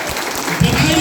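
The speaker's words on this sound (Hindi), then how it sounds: "और जोरदार तालियों से इनका स्वागत किया जाए" Audience applause welcoming a minister at a Teachers' Day honour ceremony in Rajpur, Rohtas, Bihar, swelling up after a brief lull into dense, steady clapping from a crowd.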